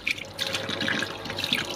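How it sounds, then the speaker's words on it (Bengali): Tap water from the household supply runs steadily while clothes are washed at home, a continuous close splashing flow with small bright spatters and no talk over it. "জল খুলেছে সাপ্লাই, দেখো এই যে কাপড় ধোয়া হচ্ছে"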